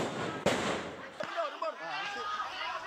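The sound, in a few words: firecrackers bursting in attack on residential area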